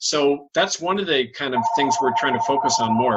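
A telephone rings in the background of an interview, as a steady repeating electronic tone under a man's continuous close speech.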